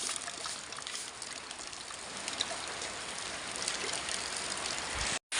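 Rain falls with water trickling and running off, a steady close hiss with a few small splashes, cutting out briefly at the very end.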